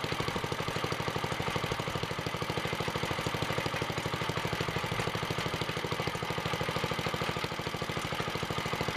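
A Wheel Horse 704 garden tractor's Kohler single-cylinder engine, freshly repaired at the bearing plate, idles steadily with a fast, even chugging pulse and light mechanical clatter, close and unbroken throughout.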